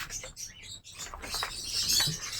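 Pet African birds chirp in a busy, overlapping chorus of high tweets and short calls, fairly close, with no voices over them.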